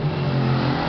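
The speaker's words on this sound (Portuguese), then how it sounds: "Barulho pra lá com essas motos" Motorcycles rev outside in a short, steady burst of engine drone that holds at an even, moderately loud level with no voices.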